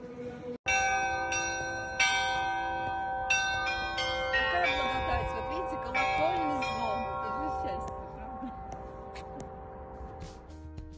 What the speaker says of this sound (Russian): Также Анастасия и Владимир послушали колокольный звон